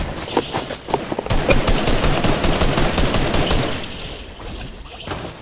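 Rapid automatic gunfire in Fortnite, dense and loud for several seconds, then tapering off into a quieter tail with a few last shots.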